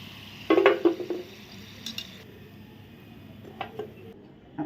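Fried modaks, sweet stuffed dumplings, bubble in hot oil with a soft, steady sizzle, broken by sharp clinks and scrapes of a metal spoon or slotted ladle against the pan.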